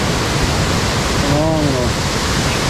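Steady roar of a waterfall beside a wilderness trail, a dense continuous rush of falling water filling the whole stretch with no break, close and loud.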